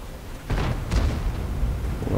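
A single heavy artillery round fired from a T28 HTC tank destroyer in World of Tanks, a deep booming blast followed by a second rumbling report and sustained low battlefield noise.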